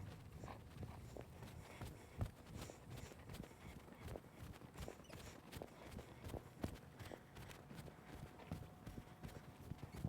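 A young horse being started under saddle walks along, its hooves clip-clopping in a steady, even rhythm close by, with faint rustling and breathing underneath.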